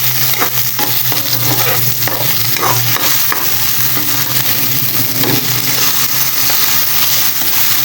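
Tomatoes sautéing in a pan for sinigang with rice-wash broth, a steady close sizzle with scraping stirs and faint clinks throughout, and no one talking.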